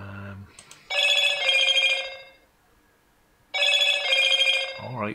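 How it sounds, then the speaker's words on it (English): A telephone rings in two long bursts of bright electronic trilling separated by a couple of seconds of quiet, loud and close, with a brief voice at the start and end. "Alright, phone, calm down."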